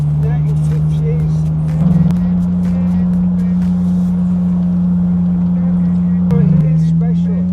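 A 1950s Morgan car's engine runs steadily in a low, continuous hum close by, with its pitch stepping up slightly twice, while a person talks over it.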